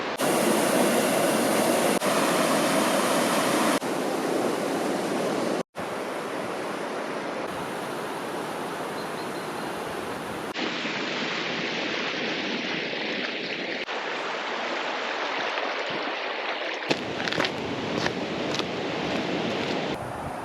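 Rushing river at a hill-walk river crossing near a bothy on the Corrour to Glen Nevis route, a loud, steady broadband roar of flowing water filling the whole stretch, with brief shifts in tone as the listener moves.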